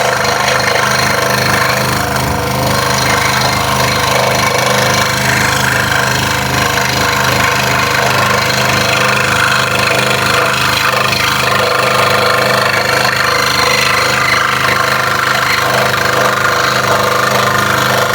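A scroll saw cuts a Halloween workpiece, the blade running in a loud, steady, rapid reciprocating buzz with motor hum as the wood turns to follow a curved line, unbroken and without talking.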